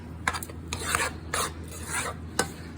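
Parmesan cheese rasped into a chicken Alfredo mixture in a home kitchen, a few short scraping bursts with gaps between, close and fairly quiet, no talking.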